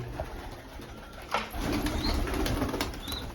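Domestic pigeons take off and flap their wings in a short burst of fluttering, close by against a steady outdoor background, with no voices.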